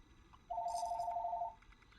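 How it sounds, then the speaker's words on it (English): A mobile phone rings indoors with a steady electronic tone lasting about a second, followed by faint chiming notes, fairly quiet against a low background hum. "that is my phone going off"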